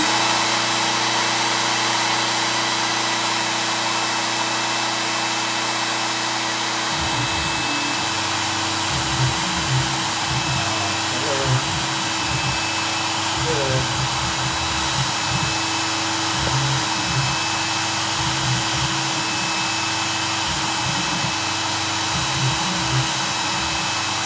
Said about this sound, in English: That's why I gotta readjust that bit in the router.